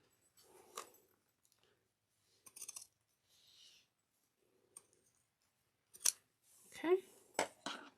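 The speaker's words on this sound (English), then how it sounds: "Okay, pinking shears." Pinking shears cutting fabric, a few separate crisp snips and clicks with quiet gaps between them, close and soft, with brief handling noises.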